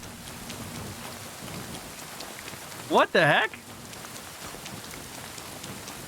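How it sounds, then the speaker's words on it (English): Steady rain falls in the medieval world of Kingdom Come: Deliverance, a constant soft hiss running throughout, briefly interrupted near the midpoint by a short exclamation from a voice. "Well, good thing it's raining."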